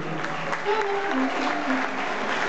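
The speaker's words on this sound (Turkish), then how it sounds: "Bir daha kocaman bir alkış rica edebilir miyiz?" Audience applause at a Turkish stage show, a dense steady wash of clapping throughout with a voice talking and singing faintly over it.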